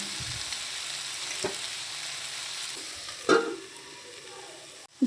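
Food frying in a pan being stirred, a continuous sizzle with a couple of sharper scrapes or knocks near the end, no one talking.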